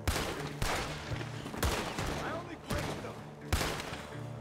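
Gunfire in Red Dead Redemption 2 cracks out in five loud, evenly spaced shots about a second apart, each with a ringing tail over a busy background.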